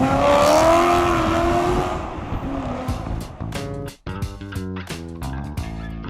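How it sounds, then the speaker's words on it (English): A Nissan S14 engine revs hard and steady for about two seconds, then settles into a series of loud, rhythmic pulsing revs with brief breaks, close and with no talk over it. "it just lets this engine sing its song, and it revs forever"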